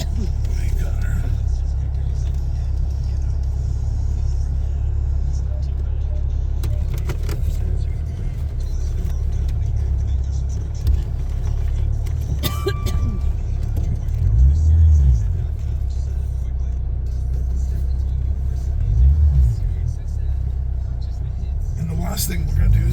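Maserati engine idling steadily, a close, continuous low rumble throughout, with faint handling noises over it.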